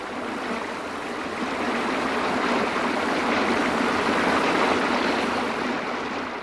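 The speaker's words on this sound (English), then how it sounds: "The water pours smoothly over the fall." Water pouring over a small waterfall into a stream, a dense, steady, full rush heard close and loud without any voices.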